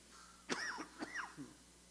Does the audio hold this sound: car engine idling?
no